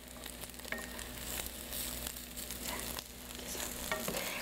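Rice flour pancake coated with bean powder, made from Icheon rice, sizzling in hot oil in a pan, a steady close crackling fry with small pops throughout.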